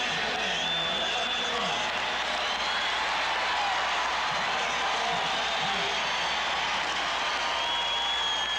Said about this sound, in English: The crowd wanting one more play.